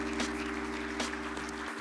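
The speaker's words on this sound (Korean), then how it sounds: "give him a grand applause" Applause from a gathered audience at a Korean-American friendship year-end evening event, a steady hall-wide clapping with a low electrical hum underneath.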